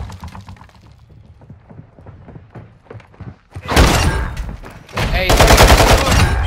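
Gunfire in Call of Duty: Modern Warfare II, starting with light clicks and taps under a brief spoken word, then erupting into loud, sustained rapid automatic bursts with heavy thuds, up close and dominating the mix.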